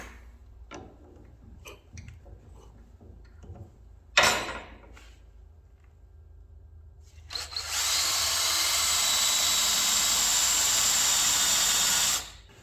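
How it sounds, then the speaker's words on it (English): A power drill bores into a punch-marked spot during an engine install, running as a loud, steady whine for about five seconds after scattered handling clicks and knocks. "let me pull that off there and we'll drill it a little bit."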